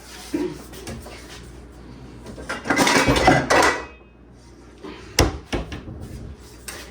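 A cooking pot is lifted out of a kitchen cupboard for making mashed and sweet potatoes, with nearby metallic clanks and rattles of cookware, a loud clattering burst in the middle and sharp knocks toward the end, alone.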